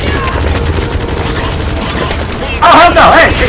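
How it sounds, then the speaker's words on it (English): Sustained gunfire rattles in the background of Metal Gear Solid 5: The Phantom Pain, a steady volley of shots, and a loud shouting voice breaks in near the end. "No shooting at the kids!"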